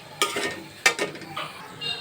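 Sesame seeds are stirred while roasting in a pan, with a few soft scraping strokes of a spoon and a faint, gentle sizzle, quiet and close.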